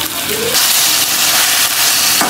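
Chicken pieces frying for a white karahi sizzle loudly and steadily in a hot pan, a dense close hiss with a few brief stirring scrapes.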